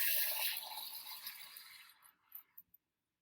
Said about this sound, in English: I'm going over to the sink to grab some water.